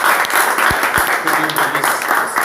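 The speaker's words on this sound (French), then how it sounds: "Applaudissons pour notre Seigneur." Congregation applauding during a French-language church worship service, a steady wash of clapping over about two and a half seconds with voices mixed in.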